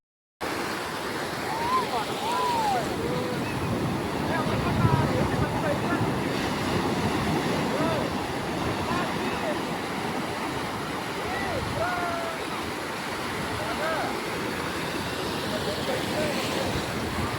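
Ocean waves wash steadily onto Uppada beach near Kakinada, a continuous broad surf roar with wind buffeting the microphone; faint voices are audible in the background at times.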